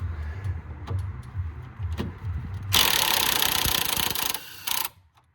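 Impact gun on a nut of a 2nd-generation Ford Focus 1.6 TDCI during brake, tie rod and drop link work: after soft clicks and handling noise, a loud, harsh burst of buzzing hammering lasts about two seconds, stops briefly, then bursts once more.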